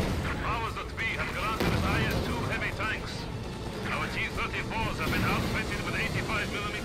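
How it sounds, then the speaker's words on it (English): Bombs exploding in a dense, rumbling barrage, with booms overlapping a constant roar like aircraft, loud and close, while people talk over the din. "bombs everywhere"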